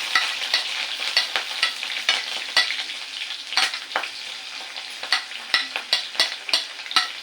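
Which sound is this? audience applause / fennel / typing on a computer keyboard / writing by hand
fennel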